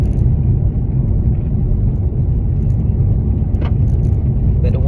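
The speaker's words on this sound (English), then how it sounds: "On this damn bumpy ass road, tearing my goddamn car up" Car driving on a bumpy road, heard from inside as a loud, constant low rumble with road noise and a faint voice near the end.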